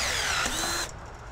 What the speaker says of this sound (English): Put it in your drill.